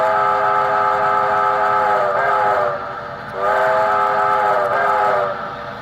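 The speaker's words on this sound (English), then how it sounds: "I can do the bell. It's a very crisp, clear bell. And a very nice whistle." A Hudson model train soundboard plays a steam whistle in two long, loud blasts through a big speaker, with a brief dip between them and no bell clearly evident.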